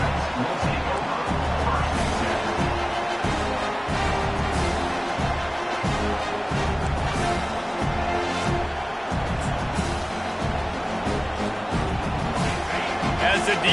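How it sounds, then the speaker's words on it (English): A crowd roars in a football video game, a steady loud wash of stadium noise with thuds and stomps throughout, and a commentator talking over it. "listen to the roar of this crowd"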